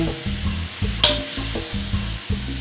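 Mushrooms stir-fried in a hot pan with oyster sauce, giving a steady close sizzle broken by a few bursts of stirring and scraping as the food is moved around.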